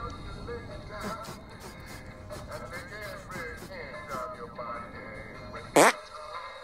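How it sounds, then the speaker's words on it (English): A cartoonish fart sound effect from South Park: The Stick of Truth bursts out once, loud and brief near the end, over a busy game soundtrack of music and effects. "Look, let me show you again. Pay special attention to the viscosity."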